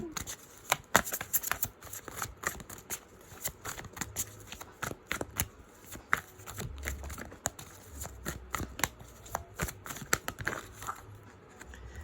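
Tarot cards are shuffled and drawn by hand, a close, busy run of crisp riffling flicks and sharp snaps in irregular bursts, continuing throughout.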